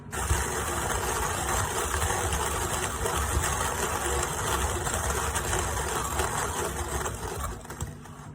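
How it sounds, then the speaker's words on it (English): A Fellow Ode Gen 2 electric burr grinder grinding coffee beans, a steady, dense mechanical whirr and rattle holding constant, close and loud, tapering slightly at the very end. "It still sounds like it's grinding, so we'll keep going."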